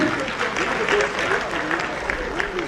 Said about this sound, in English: Clap for judges.